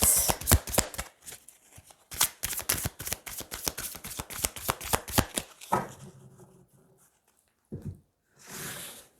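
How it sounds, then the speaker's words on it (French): A tarot deck is shuffled in a quick run of crisp card riffles, followed by a few softer slides and flicks as cards are drawn, close and without talk. "Allez, on va tirer 3 cartes."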